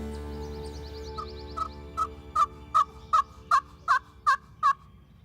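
A wild turkey gobbles in a rapid series of about ten rattling calls that grow steadily louder, heard close and clear over a low steady background hum.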